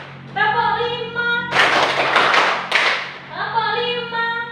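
A classroom clapping routine of five hand claps, blurred into a dense burst of slaps between stretches of a teacher's singing-style speaking voice.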